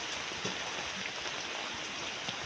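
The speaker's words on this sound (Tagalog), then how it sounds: "Ulan ni hapon." Steady afternoon rain falls in a hilly countryside setting, a dense, even hiss with a few scattered drop patters, continuous and moderately loud with no voices.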